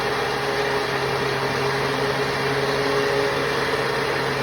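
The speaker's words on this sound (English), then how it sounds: "we'll turn on the blender, get it ready to mix with the flour." Electric blender running steadily to mix potica dough, a constant loud whirring motor hum with no breaks, close up and alone.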